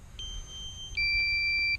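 A drone controller sounds its low-battery warning: a thin, steady electronic tone that jumps to a louder, higher two-tone beep partway through and holds, close and clear with no talking.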